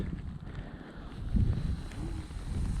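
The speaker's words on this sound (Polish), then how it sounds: "Miłosiernie wieje dzisiaj ten wiatr." Cold winter wind blows outdoors on a frosty day, a steady low rumbling buffet against the microphone with gusty swells and no voices.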